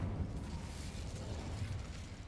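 A fire spell cast in Hogwarts Legacy erupts as a loud, continuous roaring burst of flame that holds steady for a couple of seconds with no pauses.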